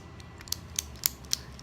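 Four or five crisp, sharp clicks come at an even pace, close and distinct, from a small fidget cube being pressed.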